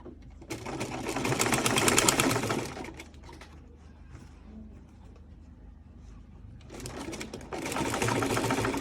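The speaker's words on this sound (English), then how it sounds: "And see the way I'm sewing it." A sewing machine stitches bias binding onto a garment neckline in two loud, steady bursts of rapid mechanical whirring, separated by a quieter pause with faint handling sounds.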